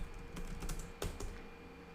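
Brief burst of typing on a computer keyboard, a few close, quiet keystrokes in quick succession with no voices.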